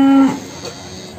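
A Simmental cow at the Muntilan livestock market gives a short, loud, low moo that cuts off quickly, followed by the hum of a busy market.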